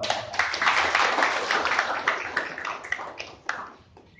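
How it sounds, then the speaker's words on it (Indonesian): An audience applauds a guest at a formal gathering, dense clapping that swells quickly, holds, then thins into scattered individual claps toward the end. "Kita aplaus Pak."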